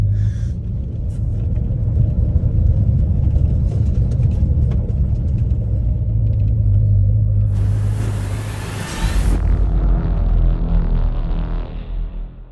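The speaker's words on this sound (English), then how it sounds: "We'll go for a little bit of a test drive up and down the street" A Ford AU Falcon car drives up and down a street on a test drive after engine work, a steady loud engine rumble and road noise throughout, with a brief burst of higher hiss near the end.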